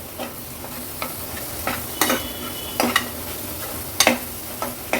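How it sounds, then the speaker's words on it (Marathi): Dry coconut masala paste being sautéed in oil in a pan for an Agri Koli style mutton curry: soft sizzling with a few stirring scrapes and spatula taps at irregular intervals, close and fairly quiet, no talk. "वाटण देखील तेलावर छान असं परतून घ्यायचंय"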